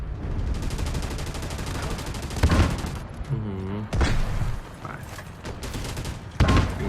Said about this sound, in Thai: ศัตรูยิงเราจากทางด้านซ้าย